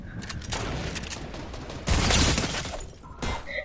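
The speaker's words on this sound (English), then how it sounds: "one of them just shot an RPG at me!" Explosive blast from an RPG fired at the player during a video game firefight, a loud broadband burst near the middle following continuous gunfire clatter, with a second smaller burst near the end.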